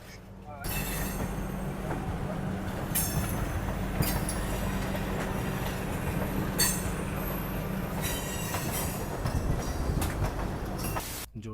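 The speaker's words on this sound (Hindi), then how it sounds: "हमारी ट्रेन गोवा एक्सप्रेस अपने ऑन टाइम डिपार्चर हो चुकी है Hazrat Nizamuddin railway station platform number 3 से" Goa Express passenger train running after leaving Hazrat Nizamuddin station, a steady loud rumble of wheels on rails with occasional clicks and faint squeals lasting throughout, no voices.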